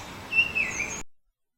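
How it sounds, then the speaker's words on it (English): A common bird gives a few clear, high chirping calls, close and fairly loud, over faint background hiss before falling silent. "Then there's a bird I hear calling wherever I am."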